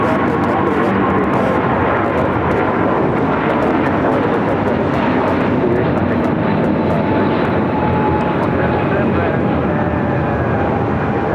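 An Airbus A350-1000 jet airliner on short final approach to runway 24 right at LAX gives off a steady, broad engine roar that fills the whole stretch, with faint airport voices in the background.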